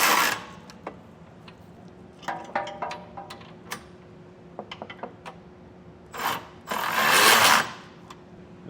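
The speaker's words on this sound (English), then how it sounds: "Now we'll take a 3/4 inch socket and that same wrench and get these tightened down." A 3/4 inch socket and wrench tightening bolts on a Class III trailer hitch under a 2012 Jeep Wrangler: sharp metallic clicks and ratcheting ticks, then a couple of longer scraping bursts near the end, close and without talk.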